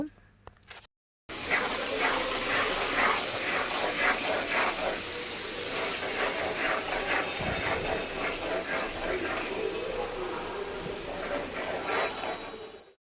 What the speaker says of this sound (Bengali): পেঁয়াজ কুচিটা নেড়েচেড়ে মাঝারি আছে পাঁচ মিনিট সময় নিয়ে তেলের মধ্যে ভেজে নিব